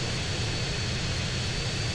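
A jet plane flying in the video game GTA San Andreas, a steady, fairly faint engine roar and hiss holding evenly throughout without talk.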